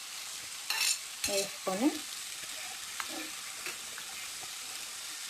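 Tomato and coriander cook in a pan with a faint steady sizzle and hiss, a few stirring scrapes and a brief spoken word early on.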